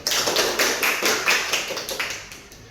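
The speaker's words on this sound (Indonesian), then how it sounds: "Beri aplaus untuk Widya." A small classroom group gives a short round of applause, with quick, dense hand claps close by that taper off within a few seconds.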